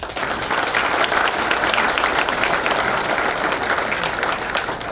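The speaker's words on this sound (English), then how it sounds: "Let's give them a round of applause." Audience applause at an athletic hall of fame ceremony, a dense steady clapping from a full room that holds evenly throughout with no speech over it.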